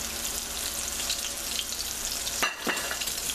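Veal pieces brown in a pan over lowered heat for veal stew Marengo. A dense, constant sizzle fills the whole stretch, near and loud, with a brief scrape or stir just past the middle.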